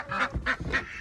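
A pet goose named Lucy honks three times in a steady rhythm while being fed carrots, the calls loud and close with no talk.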